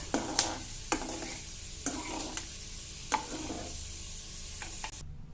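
Black pepper and fenugreek seeds sizzle softly in hot oil for lemon pickle, with a gentle background fizz broken by several sharp stirring scrapes at irregular intervals, fairly quiet and without speech.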